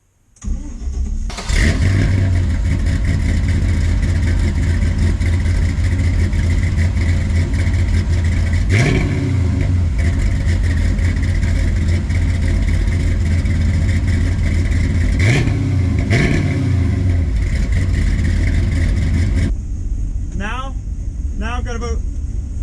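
A Squarebody truck engine cranks and catches, then runs loudly up close with a couple of sharp revs rising and falling over a steady idle before it cuts off near the end.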